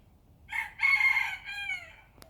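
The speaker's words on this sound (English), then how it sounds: "The roosters always crow when I'm talking." A rooster crows nearby on a homestead, one loud drawn-out cock-a-doodle-doo with a short lead-in, over quiet background.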